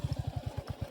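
A Royal Enfield Bullet motorcycle riding on a rough road, its thumping single-cylinder engine pulsing in a quick, steady low beat close by, faint and without speech.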